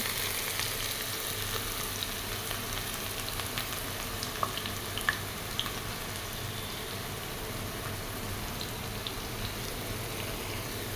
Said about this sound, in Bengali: গরম তেলে পেঁয়াজ কুচি দিয়ে দিলাম